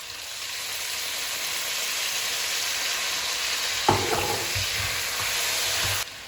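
Short ribs sizzle and fry in a wok with soy sauce, a steady bright hiss broken by a few scraping stirs before it cuts off near the end.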